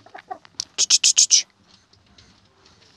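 A hen gives a quick run of five or six loud, sharp clucks close by, with quiet talking and laughter around it.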